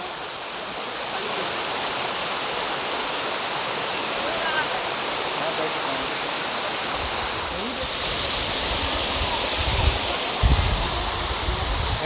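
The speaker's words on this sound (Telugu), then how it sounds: "గైస్ మీరు ఇప్పుడు చూస్తుంది స్టేజ్ 2 వాటర్ఫాల్ రాణి డుడుమా ఫ్లో చూస్తున్నారు" Stage 2 of Rani Duduma waterfall in Koraput, Odisha, flowing as a dense, continuous roar of falling water, with a few low rumbles and thumps near the end.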